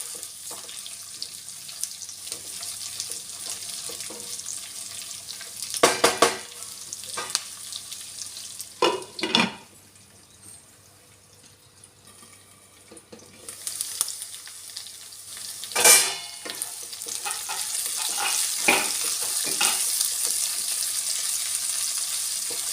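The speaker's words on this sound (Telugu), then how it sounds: "దొండకాయలు మంచిగా నూనెలో ఇట్లా మంచి ఎర్రగా వేగుతున్నప్పుడు" Sliced ivy gourd and onions frying in oil in a pan, a soft continuous sizzle broken by several bursts of scraping and stirring, with one longer quieter stretch before the sizzling and stirring pick up again.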